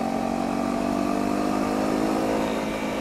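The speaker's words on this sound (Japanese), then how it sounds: "シフトダウンしたんでよりエンジンは高回転まで回りたがるようになって、結構気持ちがいいですね。" Honda CRF250L single-cylinder motorcycle engine running in third gear after a downshift, a steady, loud mid-pitched drone held at high revs throughout, close and continuous with no talk.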